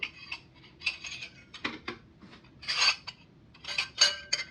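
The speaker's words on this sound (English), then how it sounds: "I'm going to go ahead and put this in a bowl to give it a taste test for you" Spoonfuls of slow-cooker potato soup ladled into a bowl, with scattered clinks of a utensil against the pot and bowl, close and fairly quiet, alone with no talk.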